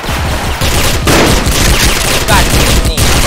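Dense, loud gunfire in a shooter game, a continuous rattling barrage with heavy booms, while players talk over it.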